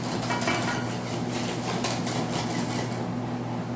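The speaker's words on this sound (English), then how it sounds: "we're whisking these in one at a time" Egg yolks being whisked for chocolate pudding, a steady rapid scraping and clinking of a whisk against a bowl over a constant background hum.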